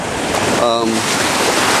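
Surf breaking on a beach during a December surf-fishing outing: a steady, loud wash of waves with wind buffeting the microphone, constant and close, with no voices.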